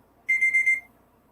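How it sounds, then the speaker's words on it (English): A timer alarm marking the end of a five-minute writing sprint sounds a single clear, high electronic beep of about half a second with a slight warble, set against quiet room tone. "Oh, look, it's 5 minutes. The alarm went off."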